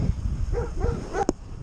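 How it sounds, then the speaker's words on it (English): A dog barks a few times along a country road near Jodrell Bank in the Peak District, heard from a moving bicycle; short, moderately distant yaps over steady road and wind rumble. "That's a dog."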